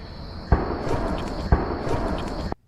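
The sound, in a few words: gunshots in the distance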